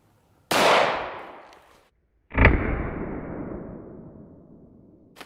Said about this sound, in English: We're shooting it out of the FN 57.